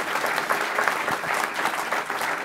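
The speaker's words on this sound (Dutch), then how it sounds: "Applaus voor beide heren." Audience applause for two men at the close of a panel talk in Amsterdam about the revival of Sloterdijk: a sustained, even wash of many hands clapping, close and full, with no voices over it.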